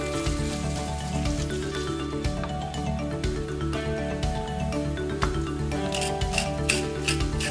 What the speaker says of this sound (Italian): Il pepe è sempre macinato al momento, fresco.